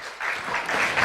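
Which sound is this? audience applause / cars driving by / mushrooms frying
audience applause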